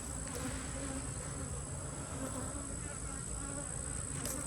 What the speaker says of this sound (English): Pay attention to how many bees are coming out.